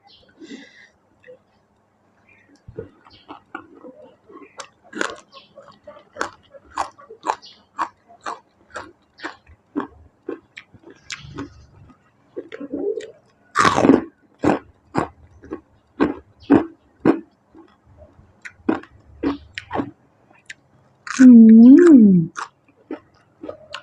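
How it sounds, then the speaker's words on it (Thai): Someone eats spicy northern Thai buffalo meat larb with tomato, giving repeated close, moist chewing and biting sounds in a steady rhythm, with a few louder bursts and a short vocal sound near the end. "มะเขือเทศ มากินด้วยกันค่ะทุกคน"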